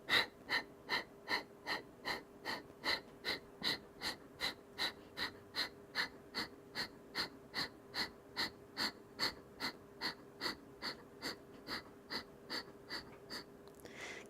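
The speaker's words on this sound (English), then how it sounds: "And then we're going to do Kapalabhati." Rapid Kapalabhati yoga breathing, a steady train of about thirty sharp, forceful nasal exhales in even rhythm, close and fairly quiet, each puff short with passive inhales between.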